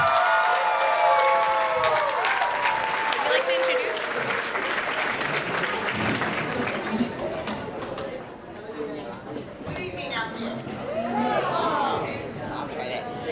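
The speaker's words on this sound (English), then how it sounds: "give a round of applause" A crowd at a university international dinner gives a round of applause, loud and dense at first and then thinning into scattered clapping and chatter, with a voice speaking over the tail.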